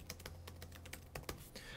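Quick typing on an Acer laptop keyboard, a run of light, crisp key clicks in an uneven rhythm, close and fairly quiet with no talk over it.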